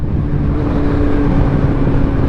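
A 2022 Kawasaki Z900 motorcycle engine turning over at low RPM gives a steady, loud, close-up rumble that holds even throughout, with no voices.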